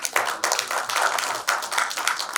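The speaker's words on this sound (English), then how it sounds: "Big round of applause for him, please." An audience at a panel discussion on transatlantic security gives a round of applause, a dense patter of many hands clapping close by for the whole stretch.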